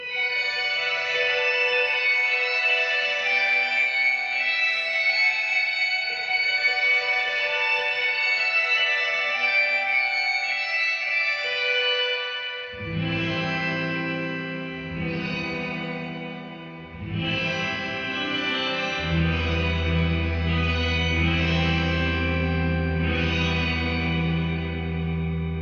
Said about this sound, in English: It's a great sounding shimmer pedal. Here's with the mix all the way up,